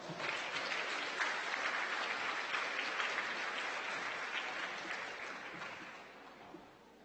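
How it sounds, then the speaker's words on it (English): Applause from an audience at a college new student orientation welcoming a police officer, a broad sustained wash of clapping that stays steady, then gradually thins and fades toward the end. "Give him a round of applause."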